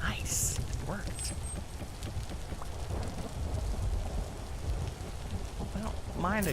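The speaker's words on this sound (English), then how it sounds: "I don't mind a good thunderstorm, but that hail is so loud." Hail and thunderstorm in the video game Vintage Story, a dense, constant patter of falling ice and rain with low rumbles underneath, loud and continuous, with brief voice sounds at the start and end.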